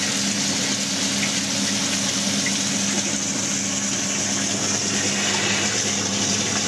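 A Hotun HiFlo 15/32 water pump, fitted with a flow enhancement, runs at full flow with its valve wide open. The sound is a steady, loud gush of water over a constant motor hum, continuous and unchanging throughout.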